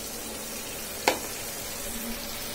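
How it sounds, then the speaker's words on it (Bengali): Ground spice paste dropped into hot oil after fish frying, a soft steady sizzle with one sharp crackling burst as it hits the pan, faint and close. "সেজন্য আমি মিক্সার করা মশলাটা তেলে দিয়ে দিছি"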